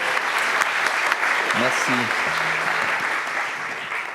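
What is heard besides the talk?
audience applause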